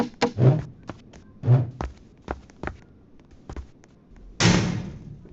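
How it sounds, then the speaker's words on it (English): A locked door is tried in a horror video game set in a farmhouse, giving several close, hard thuds and rattles at uneven intervals, then a louder slam-like burst near the end. "This door is locked."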